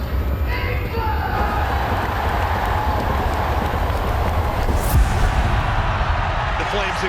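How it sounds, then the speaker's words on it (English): A large stadium crowd roaring continuously at the Wheelchair Rugby League World Cup Final between France and England, a dense steady wash of cheering with a brief louder burst near the five-second mark. "The crowd's alive."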